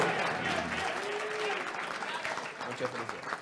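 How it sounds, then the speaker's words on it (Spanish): A crowd at a Dominican parade event in the Bronx gives sustained applause to Lehman College scholarship students. The dense clapping continues throughout, with cheering voices mixed in. "¡Fuerte el aplauso!"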